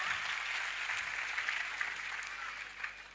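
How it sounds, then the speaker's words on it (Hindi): Parents applauding at a school annual function, a dense, steady wash of clapping from a large crowd that holds at an even level throughout. "फिर तो तालियां होनी चाहिए एक बार जोरदार"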